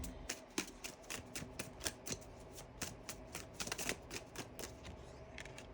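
Tarot cards are shuffled in a quick run of soft, crisp riffles and flicks, quiet and close, with no voices.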